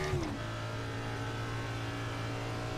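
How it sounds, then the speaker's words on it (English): Race car engine in a racing video game at Talladega, a steady sustained drone with a clear tonal hum, heard alone after a quick rising note at the start. "Well, the engine sounds pretty good."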